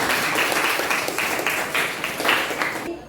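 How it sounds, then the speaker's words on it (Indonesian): Students in a classroom clap for a group, a lively burst of close, overlapping handclaps with a rhythmic pulse that cuts off abruptly near the end. "Tepuk tangan untuk kelompok."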